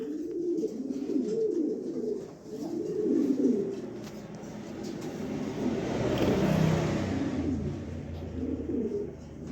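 Soft, low cooing of a male pigeon repeats in rounds, with a passing car rumbling in the background and no talking.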